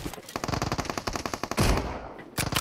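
Rapid automatic gunfire from an online shooter game, loud bursts of evenly spaced shots for over a second, then a heavier blast and another short burst near the end, with no talking.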